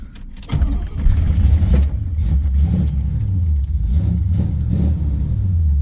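A 1977 Corvette with a cammed engine and manual 4-speed rumbles loudly while being driven, its deep exhaust note swelling as it revs and accelerates over nearly six seconds, with no talking.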